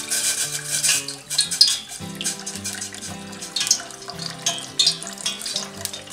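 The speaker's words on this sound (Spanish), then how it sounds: "echamos agua a esta cazuelilla" Water is poured into a small cooking pot in a home kitchen, a running splash with clinks of the pot, heard over steady background music without talk.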